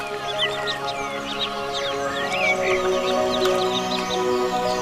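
Waterfowl including mallard ducks call from a wetland in spring, a busy overlapping chorus of quacks and bird calls at moderate distance, steady throughout with no talk.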